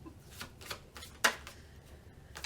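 Tarot cards are shuffled by hand, with a series of soft riffles and taps and one sharper snap near the middle, close to the microphone and with no voices.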